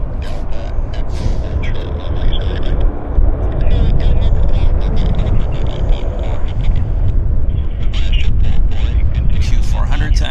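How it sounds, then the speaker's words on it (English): A Q400 turboprop airliner taxis out at Vancouver airport, a loud continuous low engine rumble and propeller drone beneath steady close talking throughout. "Q400 taxing out."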